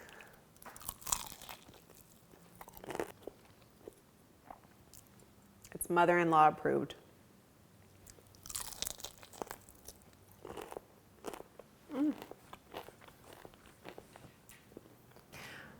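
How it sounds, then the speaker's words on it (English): Someone bites into crunchy, crispy buttermilk fried chicken, giving a loud close crunch midway with softer chewing noises and scattered clicks around it, while a person speaks briefly in between. "It's nice and crunchy and crispy. So I'm just gonna eat,"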